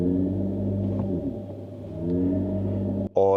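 In sport mode, a Mercedes EQS 450+ electric car produces a louder artificial drive sound, a dense low synthetic drone with gliding tonal layers that dips briefly before ending in a sharp, bright electronic chime burst.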